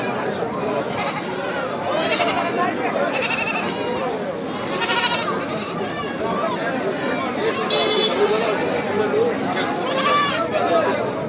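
Goats bleating repeatedly at a village livestock market in rural Bangladesh, several animals calling at once over a constant crowd murmur and chatter.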